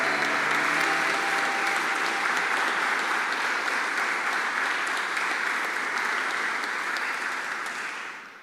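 Church congregation applause in a Congregational church service, loud, dense clapping filling the whole stretch and tapering off at the very end.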